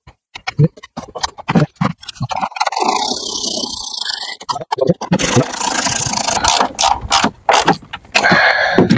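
A ratchet tightens the battery clamp on a Ford Focus, giving loud, close bursts of rapid clicking that start, pause and start again across the stretch.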